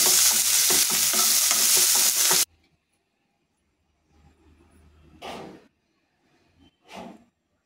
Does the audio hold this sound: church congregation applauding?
no